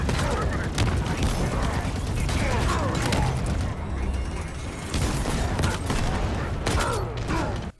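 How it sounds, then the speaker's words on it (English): Shade turret firing in Halo Infinite, a steady stream of loud, rapid energy shots with mechanical clatter, running almost continuously with a brief lull midway and ending abruptly. "First look at the new Shade turret."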